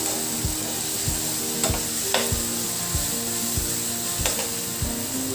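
Chopped tomatoes sautéing with dry spices in a pan, with a steady sizzle under repeated scraping strokes of a spoon or spatula at an even rhythm.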